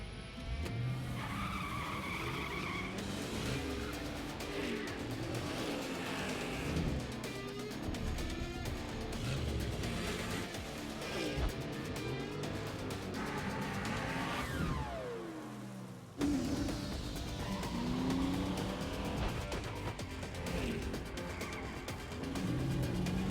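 Powerful Lingenfelter performance car engines roar and rev with tires squealing and skidding, cars accelerating and sliding in bursts over a continuous loud drive.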